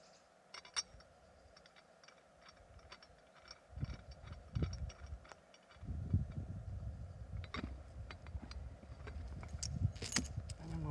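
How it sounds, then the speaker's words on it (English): Toughened steel plate clicked onto a shackle for tractor pulling with a Fordson Super Major, giving scattered light metallic clinks and rattles close by, followed by louder handling clatter and shuffling. "So we'll just click that toughened steel plate up to a shackle."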